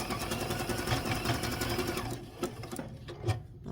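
A sewing machine stitches across a quilt block with a rapid, even mechanical chatter, close and clear, then slows into short separate bursts of stitches with pauses between them.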